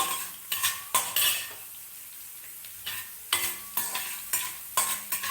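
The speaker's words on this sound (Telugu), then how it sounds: "పోపు కొంచెం వేగాలి" Dried chillies, lentils and mustard seeds for tempering fry in hot oil with a soft steady sizzle, while a spoon scrapes and stirs the pan in sharp repeated strokes.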